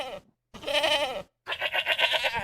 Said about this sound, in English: We got the goats going on the soundboard.